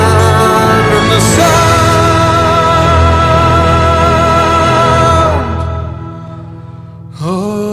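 A rock cover song plays loud and full, dense sustained vocals and instruments with a driving low end, thinning out near the end before a brief swell returns.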